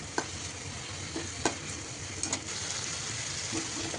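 Chopped onion sizzling steadily in a hot pan while being stirred, with occasional clicks and scrapes of the spoon against the pan over a constant frying hiss.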